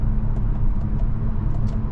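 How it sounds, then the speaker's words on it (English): A low, steady rumble comes from the naturally aspirated V6 engine of a 2023 Nissan Maxima SR while the car is under way, with a smooth, even drone and no talking. "Nice response from the engine"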